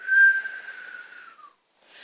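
A voice imitates the wind with a breathy whistle that holds and slowly falls, pauses briefly, then starts again softly.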